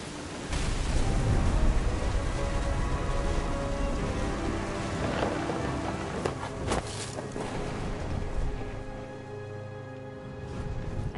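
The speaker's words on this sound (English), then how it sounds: "Thunder sounded much too close and full of angry power." A thunderstorm with heavy rain rolls over the lonely beach in What Remains of Edith Finch, a loud steady downpour broken by a few sharp cracks and rumbles of nearby thunder.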